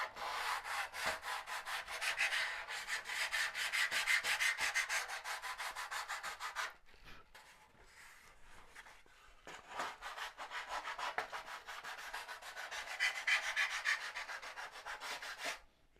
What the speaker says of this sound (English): I'll get those done as I'm sanding the tips